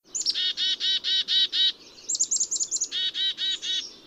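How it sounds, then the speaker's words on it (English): Black-capped chickadee calling alone, a quick series of bright, clear chirped notes in rhythmic bursts with a short pause and a higher fluttering run in the middle, close and distinct against a quiet background. "that was a black-capped chickadee"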